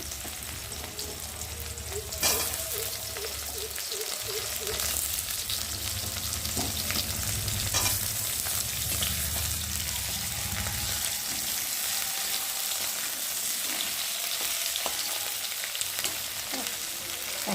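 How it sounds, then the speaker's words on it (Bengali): Steady oil sizzling and crackling of fish frying in a pan, continuous and close, with occasional utensil clinks and stirring. "একটু মাছটা ভাজা করবো, পুরোটা ভাজা করবো না"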